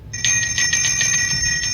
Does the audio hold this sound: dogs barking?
no